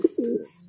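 A racing pigeon just back from a hard race gives a short, close coo, a brief soft throaty call heard alone.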